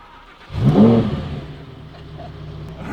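A car engine starting and revving once, a rising whine that swells and falls away to a low steady idle, close and alone.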